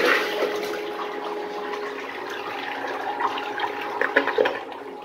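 A miniature 1989 Kohler Highcliff toilet flushes with a rushing swirl of water that gurgles and bubbles louder near the end, heard up close with no talking.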